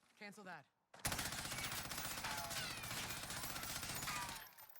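Rapid automatic gunfire rattles loudly in Warzone during a recoil test, one sustained burst of about four seconds following a brief spoken phrase.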